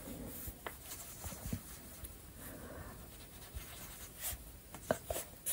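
Neocolors II wax pastel crayons rubbing across paper while coloring a book background, soft scratchy strokes in irregular bursts, close and quiet, with no talking.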